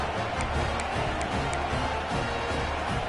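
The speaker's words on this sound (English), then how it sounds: "this crowd is deafening, trying to will the stop" Stadium crowd in an NCAA college football video game roars loudly and steadily, a dense wall of cheering with some clapping throughout.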